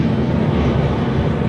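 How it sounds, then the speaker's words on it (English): An airplane flying overhead outdoors before a storm, a loud, steady low roar that fills the whole moment without any talking. "that's an airplane."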